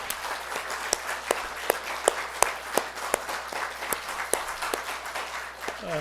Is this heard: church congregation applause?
yes